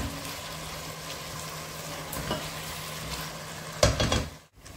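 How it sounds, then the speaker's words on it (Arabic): Chicken pieces and bell pepper fry in hot oil, a steady close sizzle with occasional stirring scrapes and a brief louder clatter near the end. "باش نقلي الدجاج بالبيبي في الزيت"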